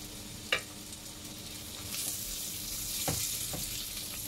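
Sliced garlic cloves added to softened onion frying in a pan, a soft continuous sizzle with a few brief pops and faint stirring scrapes, close and fairly quiet, no voices.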